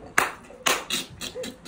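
Several sharp hand claps in a slow, uneven rhythm, part of a ceremonial kava drinking round in a Fijian village, close and fairly loud with brief murmured voices between them.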